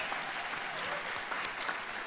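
A room of about 416 people at a 1 Million Cups event applauds together, a thick, continuous roar of clapping heard from within the crowd.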